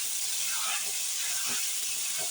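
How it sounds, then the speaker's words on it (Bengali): New potatoes tipped into hot oil tempered with whole bay leaves hiss and sizzle steadily and loudly, a continuous frying crackle with a few soft bursts as they settle in the pan. "ফোড়নটা ভেজে নিলাম এখন দিয়ে দিব আলু নতুন আলু সবগুলো আলু দিয়ে দিলাম"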